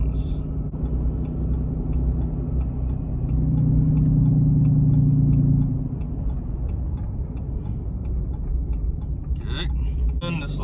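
A 4th-generation Cummins diesel truck engine with a Banks Ram Air intake growls and rumbles steadily while accelerating, rising in a deep drone as it pulls, with faint ticking and a brief clatter near the end.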